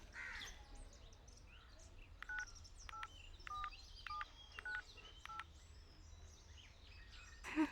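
A telephone number is keyed in on a handset during an attempt to reach a phone that has been switched off: a quick run of short, clear keypad dialing tones at moderate level, with faint crow caws and birds outdoors behind.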